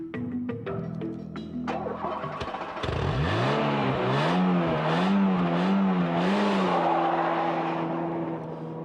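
A 1993 Renault Clio RSi engine accelerates hard, its tone rising and wavering through the revs after a brief lower-pitched passage, sustained and fairly close.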